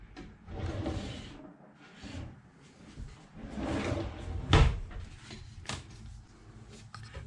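Kitchen drawers in an RV slide open and shut several times, close by, with soft rolling runs and a sharper knock as one closes, separated by brief quiet moments.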